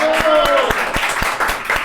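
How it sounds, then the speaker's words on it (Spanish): A small podcast audience and crew clap together in brisk, even claps for about two seconds, close and fairly loud, with voices running underneath. "¡Palmas,"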